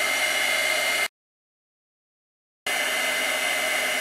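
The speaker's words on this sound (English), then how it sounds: "So let me just grab my heat tool holder here and we'll heat emboss this." Heat embossing tool blowing hot air over a stamped emboss-resist card, a steady loud hiss that cuts out abruptly for a moment of silence and then resumes.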